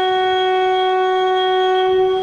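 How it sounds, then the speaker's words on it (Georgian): Steady sustained horn tone from a train leaving the station on the airport railway line, a clean multi-harmonic blast held loud and unbroken throughout with no talk. "საყვირის ხმა, რომელიც მგზავრებს აფრთხილებს, რომ მატარებელი სადგურიდან გადის მხოლოდ მემანქანეს ესმის."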